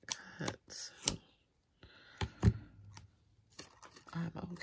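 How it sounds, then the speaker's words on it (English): Scissors snip a paper planner item in a few short, sharp cuts, close by, separated by brief pauses with rustling paper and light handling noises. "I'm just cutting this because it's not cut"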